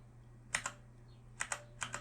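Numpad keys on a computer keyboard tapped one at a time, quiet close clicks arriving in small clusters of two or three over a faint steady hum.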